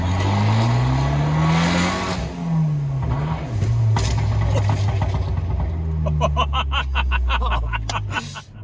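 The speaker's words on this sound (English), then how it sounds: "one of like the snappier kind of sounding backfires, like way backfire poppier than your Fiesta" A tuned 2022 Hyundai Veloster N revs loudly, its engine note rising and falling, then its exhaust crackles into a rapid string of sharp backfire pops over the last few seconds.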